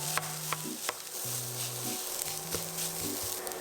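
Cabbage fried rice sizzling in a hot pan as a generous bowl of cooked rice goes in with cabbage, a steady frying hiss broken by soft scraping stir strokes, with faint background music.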